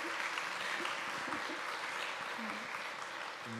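An audience at an education and geospatial technology event applauds in a soft, even wash of clapping that holds steady throughout, heard at a distance and fairly faint, with a few faint vocal sounds mixed in.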